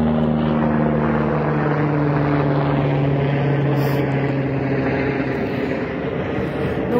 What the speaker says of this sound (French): Et j'attends que l'hélicoptère passe.